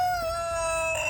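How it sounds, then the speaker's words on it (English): A Mexican rooster crows in one sustained, high call over faint background noise, fairly close and clear. "he got some roosters"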